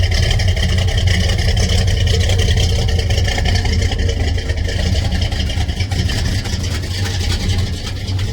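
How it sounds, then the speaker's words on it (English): A 1974 Plymouth Road Runner engine idles loudly and steadily up close, with a rough, rumbling exhaust note from an exhaust leak that stays constant throughout. "I gotta fix that exhaust leak."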